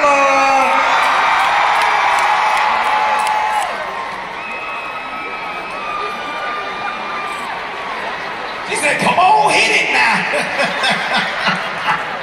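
A studio audience at a comedy stage show cheers, whoops and screams loudly throughout, the noise dipping midway then surging again near the end, with a voice talking through the din.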